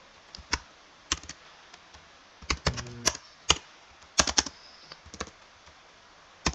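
Fingers tap a computer keyboard while entering values into a MySQL table, giving scattered, close clicky keystrokes in short bursts with pauses between them, with no one speaking.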